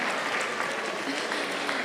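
A crowd at a British Bangladeshi awards ceremony claps for a Muay Thai kickboxer receiving an award, producing a thick, continuous burst of applause with scattered sharp claps and a faint murmur of voices.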